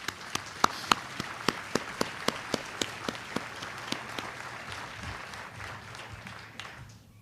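An audience at a military change of responsibility ceremony claps in a sparse, evenly spaced pattern of distinct hand claps that thins out and fades after a few seconds.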